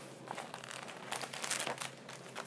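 Paper crinkling and rustling close by while unboxing a package, a soft continuous crumpling texture over a couple of seconds, with no talking.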